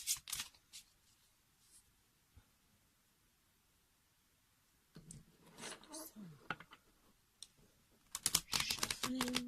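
Cartomancy cards are shuffled in quick riffling bursts, faint at first, then louder and denser toward the end, with light rustling between.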